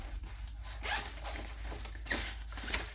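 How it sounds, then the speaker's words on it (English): A zipper pocket on a sewn messenger bag is unzipped in a few quick, close, scratchy pulls. "open up your zipper pocket,"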